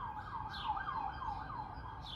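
Emergency vehicle sirens wail outside at a distance, several overlapping rising and falling tones sounding steadily throughout over low background rumble.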